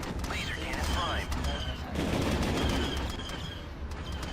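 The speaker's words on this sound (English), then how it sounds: "Attack coordinates received. Laser cannon prime." Laser cannons fire in a Star Wars strategy game, a dense, continuous barrage of rapid zapping shots and rumbling blasts layered over game voices and battle noise.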